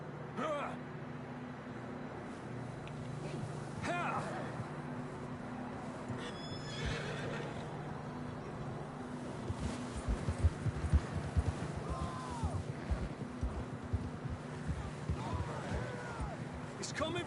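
Horses whinny and snort several times over a steady clatter of hooves, with a louder burst of hoofbeats near the end; Red Dead Redemption 2 game ambience underneath.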